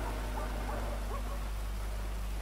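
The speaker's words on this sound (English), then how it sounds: "Oh no, it's raining." Steady rain pattering in GTA 5 during a roleplay bike ride, a constant broadband hiss with low hum underneath, no voices.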